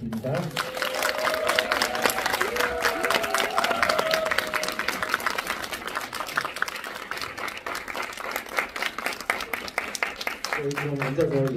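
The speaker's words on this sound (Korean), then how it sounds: "입장식 때 여러분 뜨거운 박수로 환영해 주시면 감사하겠습니다." Audience applause greets the cast of the film 'Heaven Is Not There' as they enter a screening Q&A. Dense, steady clapping fills the whole stretch, and voices and music are heard faintly under it at the start and end.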